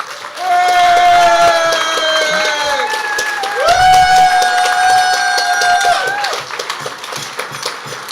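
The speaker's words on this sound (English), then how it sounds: "So please give Simon a huge round of applause." An evening audience applauds and cheers, with crowd noise and whoops rising together, while strong tonal music with held and gliding notes plays over much of it, leaving the clapping partly masked.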